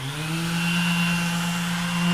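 A Mirka Deros 650X CV random orbital sander runs on white oak, giving a steady, close electric whine with a firm tonal hum, continuous throughout without pauses.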